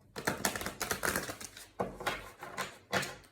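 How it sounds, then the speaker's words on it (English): A tarot deck is shuffled in quick bursts of crisp papery riffling and tapping, several short flurries in a row, close and fairly loud with no voices. "Okay, we'll do one last shuffle"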